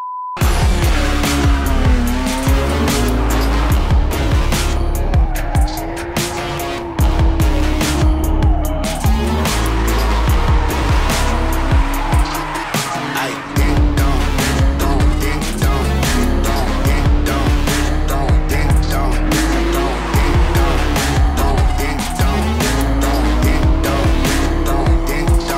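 A drift car runs hard with a loud, continuous engine roar and repeated tire squeals rising and falling throughout, close and sustained without talk.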